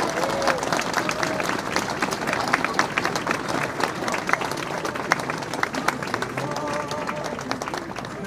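Applause from a Christmas crèche unveiling crowd in Béziers, a steady dense patter of clapping lasting throughout at moderate distance, with some crowd noise and voices mixed in.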